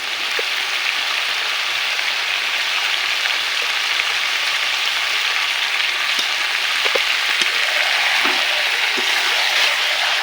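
Meat frying with spices and salt in a pan, a steady loud sizzle throughout with occasional scraping and clicks of stirring.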